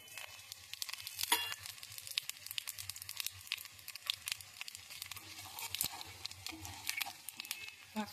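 Five-spice and dried red chillies frying in hot oil, with eggplant and potato nearby: a continuous close sizzle with crackling pops and spits, occasional sharper snaps over a steady hiss.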